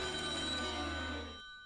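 A telephone rings on a Polish TV quiz show, a steady electronic trill with bright sustained tones that rings for over a second, then cuts off and decays, with no talk over it.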